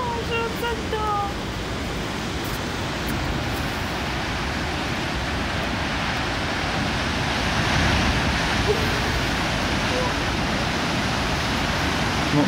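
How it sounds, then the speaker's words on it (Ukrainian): Big ocean waves crashing along the coast at Devil's Slide near Santa Cruz, a loud steady roar of surf mixed with wind buffeting the microphone, swelling slightly toward the middle and continuing throughout. "волны, конечно, тупо здоровенные"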